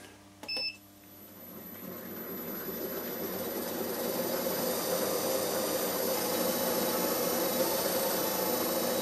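A wood lathe turns a walnut bowl at 910 rpm, giving a steady whirring drone with a hissing edge that builds after a short clunk at the start and holds constant.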